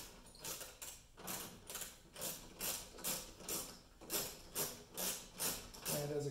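Ratchet clicking as bolts are unscrewed from the headlight of a 2017 Ram 2500 pickup truck, a steady run of rhythmic ratcheting bursts, close and fairly loud, with no talk over it.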